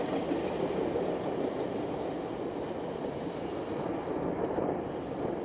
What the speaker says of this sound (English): Oh, we got a train rolling by.